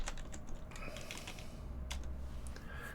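Rapid typing on a computer keyboard during a programming session, with a steady run of close, crisp key clicks over a constant background hiss and no talking.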